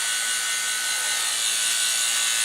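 A new vacuum pump running on a cooling system gives a steady, loud mechanical whir with a bright hissing edge. It holds an even level throughout with no pauses and no voices.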